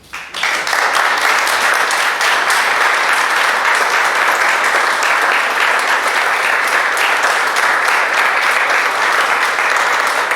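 Sustained, loud applause from an audience for a guest at an evening event, rising sharply at the start and holding as a dense, even wash of clapping.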